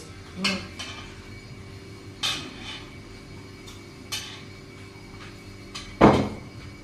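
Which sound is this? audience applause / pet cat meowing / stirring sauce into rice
stirring sauce into rice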